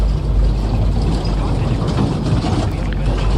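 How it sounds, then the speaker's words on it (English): A Boeing 737-700 in the PMDG flight simulator runs its engine after start, a loud, dense, steady rumbling roar heavy in the low end that holds without a break; no voices are heard. "We got a good engine start."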